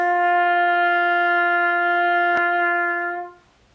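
A single open G held on a trumpet with no valves pressed, a clean steady tone lasting about three seconds before it stops, played alone with a faint tap partway through.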